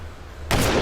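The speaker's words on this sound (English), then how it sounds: "Firing at Private Chicory, sir." Gunfire in a comedy TV show, a sudden loud blast at the midpoint after a quiet stretch, sustained and roaring to the end.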